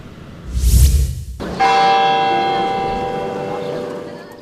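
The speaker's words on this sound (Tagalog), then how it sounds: "Pinatunog ang kampana ng Manila Cathedral ngayong gabi." After a muffled thump, the Manila Cathedral church bell strikes once at night, loud and close, its bright metallic ring holding and slowly decaying over several seconds.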